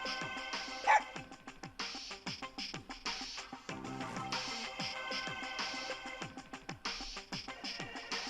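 Dog barking in the Persona Q video game, a run of short repeated bow-wow barks and yips in a steady rhythm over background game music, fairly close and clear.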